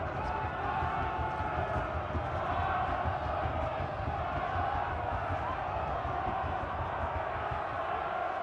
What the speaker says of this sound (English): the crowd are screaming at their boys